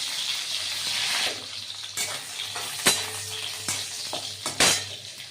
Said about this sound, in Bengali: শুকনো লঙ্কা ফোড়ন দিয়ে দেবো, আর রসুন, গোটা রসুন।